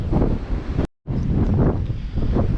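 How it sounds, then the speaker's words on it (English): Strong wind gusting on a sea shore during a fishing trip, a loud, steady roar of buffeting against the microphone with a brief dropout partway through and no voices. "Wind's still quite bad."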